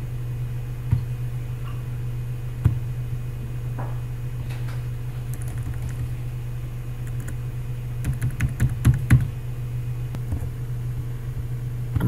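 Computer keyboard arrow keys are pressed while lining up a shape in a Tinkercad dragster design. Sparse single taps give way to a quick cluster of clicks over a steady electrical hum.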